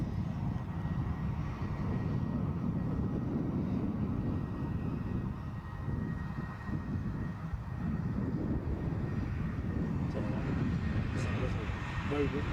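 An EasyJet airliner at Edinburgh Airport makes a steady, moderately distant engine rumble that rolls on without a break through the whole stretch.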